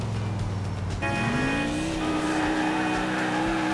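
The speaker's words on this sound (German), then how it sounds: "So schlecht ist die Karre gar nicht." Car driven in the video game GTA IV through Liberty City streets, a loud continuous engine drone that rises in pitch as it accelerates, tire noise underneath, no talking.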